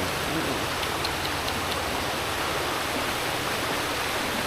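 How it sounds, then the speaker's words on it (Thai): Steady broadband rush of a waterfall beside a riverside campsite in Saraburi, a continuous even roar of falling water heard close and unbroken, with no talking over it. "เอาบรรยากาศริม น้ำตกนะครับ"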